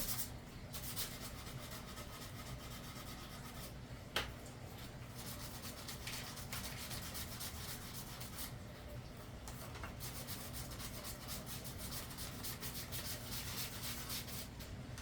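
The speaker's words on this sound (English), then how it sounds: "I am going to sand a little bit of that glue down where it's not so noticeable" A sander rubs down dried glue on a budget DIY Halloween craft, giving a continuous, fairly quiet abrasive scratching with one small knock partway through.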